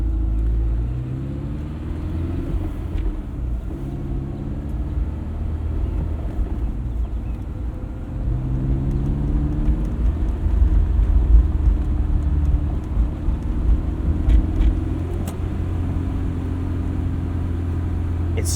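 A 2001 Honda S2000 with a new clutch drives with the top down in cold weather, giving a smooth, continuous low engine rumble and road noise with gentle rises and falls in pitch.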